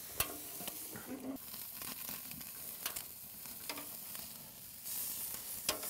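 Steak sizzles steadily on an outdoor grill, with a constant crackling hiss, scattered sharper pops, and a few clinks of tongs or a spatula as the meat is turned.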